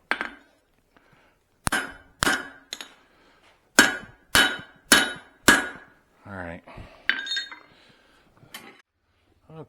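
Bright, ringing hammer blows strike hot steel on an anvil while a Swedish-style cross peen hammer head is forged, coming in close, loud bursts of two or three quick strikes with short pauses, and lighter taps toward the end.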